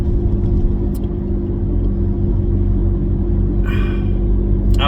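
A car engine hums steadily while driving, a constant low rumble with road noise running unbroken, with a few faint higher rattles near the end.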